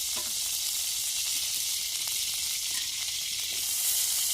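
Onion fries in a small amount of oil in a pan, giving a steady, close, bright sizzle and hiss that holds throughout, with faint crackles and no talk.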